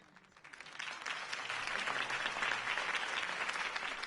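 Crowd applause at a campaign rally in the Telltale Batman video game, swelling up from quiet into a sustained, dense roar of clapping that continues evenly.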